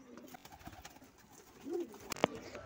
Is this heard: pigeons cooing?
yes